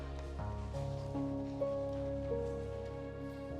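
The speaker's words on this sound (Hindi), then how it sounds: "एक यू बारिश है, यू रुकने का नाम ही ना ले रही।" Steady rain falls during a rural Indian film scene, a continuous soft hiss spread evenly across the moment beneath sustained background music tones, with no voices.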